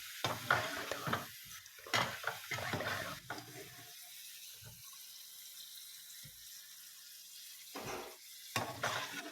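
Food fries in a pan, giving a soft, steady sizzle with intermittent stirring and clattering that swells and fades. The sound stays fairly quiet throughout.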